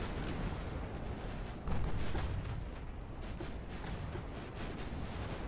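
Naval gunfire in the warship game Ultimate Admiral Dreadnoughts, a dense continuous rumble of distant booming salvos with a louder burst partway through, no talking.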